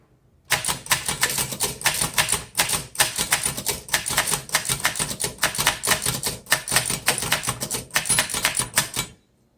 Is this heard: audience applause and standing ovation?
no